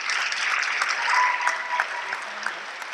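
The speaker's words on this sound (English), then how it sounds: "Please clap with me for Sophia." A concert audience at a winter music showcase claps steadily for a performer taking the stage, a brief, even burst of many hands heard up close.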